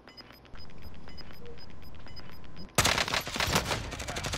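Automatic gunfire in Call of Duty Warzone, a sudden loud burst of rapid shots that cuts in after a quieter stretch of steady ambience and continues densely to the end.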